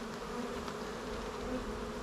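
Honeybees buzzing around a hive as pollen comes in, a dense continuous drone of many wings, steady and close with no talk.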